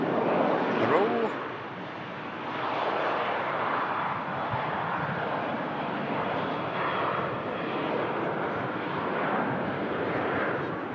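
Lufthansa airliner bound for Munich on its takeoff roll, a broad rumbling jet roar that swells and holds steady for several seconds, with a voice talking over it.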